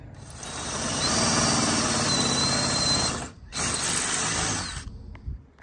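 Power tool whirring steadily and loudly near the microphone while a through bolt is driven to join two parts of a pram hood, with a brief pause before a second burst and a tapering finish.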